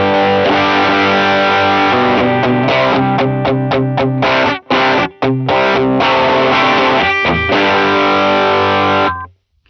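Electric guitar playing a chugging rhythm part through an ODR-1 overdrive pedal, loud and thick with harmonic distortion, strummed chords broken by short choppy stops before ringing out and cutting off near the end.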